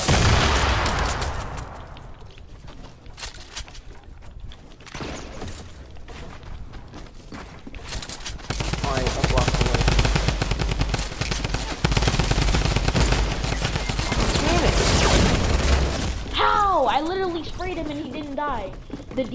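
Tommy gun fire in a Fortnite match, with rapid automatic bursts, repeated sprays of shots and echoing impacts that dominate throughout, mixed with game effects and occasional voices.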